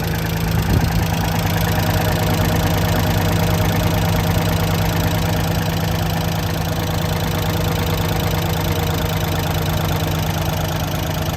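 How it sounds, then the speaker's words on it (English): Engine idling after a cold start, a steady, dense mechanical drone with a low hum and fine knocking texture that holds evenly throughout, close-up and fairly loud, with no talk. "Pretty good cold start though."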